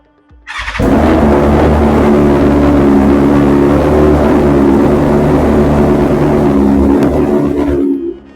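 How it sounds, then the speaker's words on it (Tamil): A BMW S1000 motorcycle fires up and settles into a loud, steady exhaust rumble close by, holding constant for several seconds before cutting off abruptly. "ஸ்டார்ட் பண்ணி காட்டுறேன் உங்களுக்கு எக்ஸாஸ்ட் பண்ணி"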